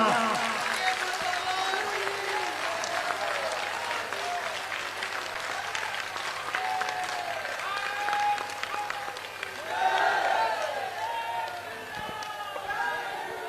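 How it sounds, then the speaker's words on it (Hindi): An audience breaks into sustained applause at a Hindu religious gathering, a dense, even clapping that carries on throughout, with some crowd noise and cheering mixed in. "बजनी चाहिए तालियां।"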